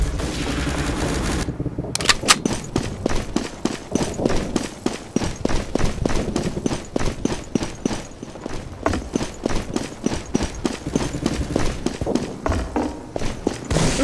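Rapid gunfire crackles in the video game Day of Defeat Source, a dense run of sharp, regular shots close by, repeating for many seconds with little letup and no talking.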